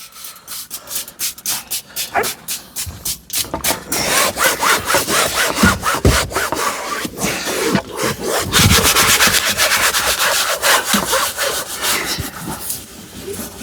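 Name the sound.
scrubbing a van's interior by hand during detailing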